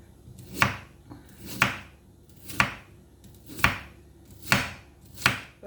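A knife chopping bamboo shoots on a board, six loud, evenly spaced thuds about one second apart, close up with no talk.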